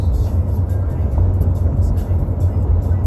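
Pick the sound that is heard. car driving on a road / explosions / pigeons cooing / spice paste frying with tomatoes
car driving on a road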